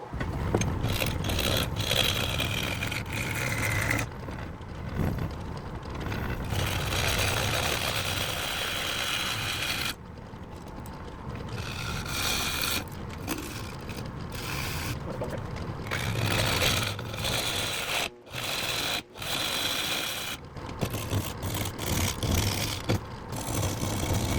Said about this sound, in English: we're gonna start off with my 1/2 inch bowl gouge